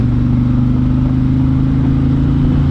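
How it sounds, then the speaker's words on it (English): A 2020 Indian Challenger motorcycle engine in sport mode runs loud and close, holding a steady, throaty drone as the throttle is opened slightly. "I'm just going to open the throttle just a little bit"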